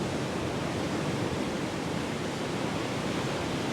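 Steady, broad rush of ocean waves washing continuously at an even level, with no voices, heard as a calm backdrop for a guided breathing exercise.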